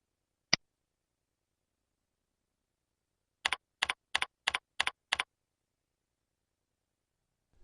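A password typed on a computer keyboard: one isolated key click, a pause, then six evenly spaced crisp keystrokes, close and clear in near silence.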